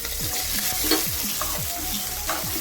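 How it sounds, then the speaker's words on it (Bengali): Chopped onion, green chili and capsicum fry in hot oil, a bright continuous sizzle overlaid with repeated scraping stir strokes of a spatula, close and fairly loud. "গরম তেলে দিয়ে দিচ্ছি প্রথমে কুচানো পেঁয়াজ"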